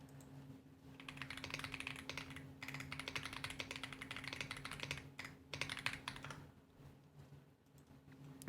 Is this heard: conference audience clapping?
no